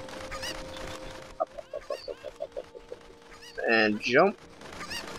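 Chickens clucking in The Legend of Zelda: Ocarina of Time, a quick run of short repeated clucks followed by a louder squawking burst, with a voice speaking briefly beforehand.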